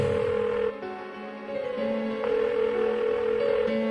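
A phone rings on unanswered in Persona 4, a repeating electronic ring tone in steady pulses, clear and close, with no speech over it.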